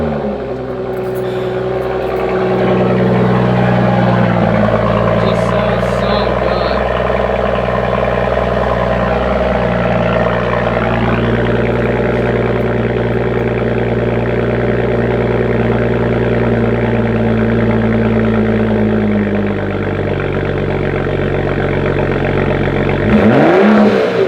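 A BMW 435i with a Borla exhaust, stock downpipe and no tune runs loud and steady in a sustained drone, swelling with revs, before a sharp final blip near the end.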